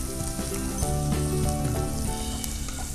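Red chili, green chili, ginger and garlic fry in hot oil, giving a loud, continuous sizzle with crackles and the occasional scrape of stirring, heard up close with no talking.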